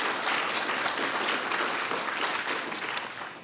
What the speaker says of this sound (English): Please give Ann and Ramon a round of applause for their leadership in chairing this event.